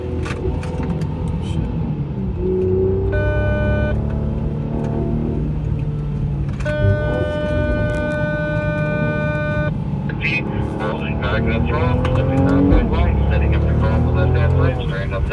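A Mercedes-Benz C43 AMG engine on a race track roars continuously, with revs rising and falling through acceleration, loud and close from inside the car, with someone talking over it.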